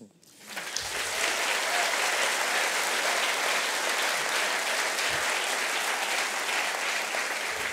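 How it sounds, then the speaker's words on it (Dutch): A theater audience breaks into applause for the festival teams, swelling in within the first second and then holding as a loud, sustained roar of many hands clapping together. "Geef hen een applaus."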